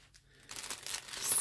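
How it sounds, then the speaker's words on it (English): Wrapping paper is scrunched up around a Christmas bauble as a decoration is made: a soft crinkling and crumpling that builds over about a second, close and fairly quiet, with no talk. "scrunch up the paper around the outside, and just sort of bring it up the top."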